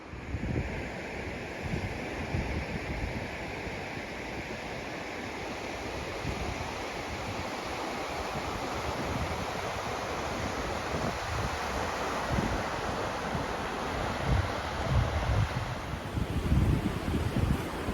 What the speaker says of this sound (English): I don't know if you can hear me over the sound of the waves